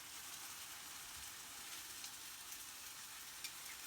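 Emu game meat sizzling and frying in a pan, a steady bright crackle with occasional small pops, close and continuous with no voices.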